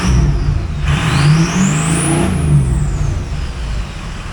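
A 2003 Ford F-250 with a 6.0L Powerstroke diesel revs up, its turbo whistle climbing sharply to a high peak then falling as the engine settles back, a loud, close diesel rumble underneath throughout.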